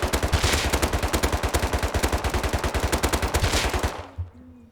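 Rapid, steady automatic gunfire in the video game Rust, a long continuous burst of evenly spaced shots fired while crouching with little recoil, loud and close, ending abruptly.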